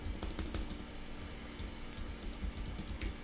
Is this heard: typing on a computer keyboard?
yes